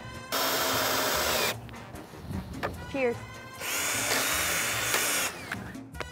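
A power drill whirs in two long loud bursts driving a screw while building a pergola, with a brief pause between them and a voice speaking briefly.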